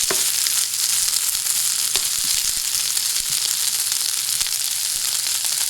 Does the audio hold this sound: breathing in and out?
no